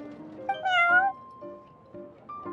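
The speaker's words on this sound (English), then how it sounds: "Meow." A cat character in the Genshin Impact card game mode meows close and clear, with a couple of short tonal calls rising and falling, then quieter chiming game tones.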